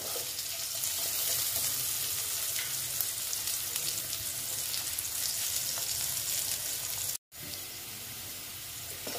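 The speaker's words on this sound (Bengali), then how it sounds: "আলুগুলো ভেজে নিচ্ছি।" Potato pieces frying together in oil in a pan, cooked for a bitter gourd dish: a steady, dense sizzle runs throughout with no talk, briefly cut by a short silent gap near the end.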